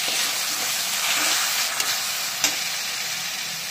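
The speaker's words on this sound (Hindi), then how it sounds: "अब हम इसमें देखिए टमाटर हरी मिर्च और लाल मिर्च का पेस्ट को हम डाल दे रहे हैं।" Tomato, green chili and red chili paste frying with onions in oil, a steady close sizzle and hiss with a couple of faint stirring knocks.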